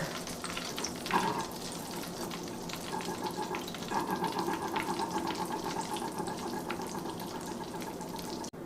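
Corned beef egg rolls frying in hot oil, a steady close sizzle and bubbling crackle with a few louder pops, alone without talk.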